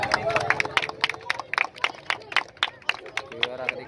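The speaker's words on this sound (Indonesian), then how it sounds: "Tepuk tangan juara ketiga." A crowd at a village kite-flying contest for Indonesian Independence Day claps for the third-place winner, with scattered uneven claps mixed with chatter and voices nearby.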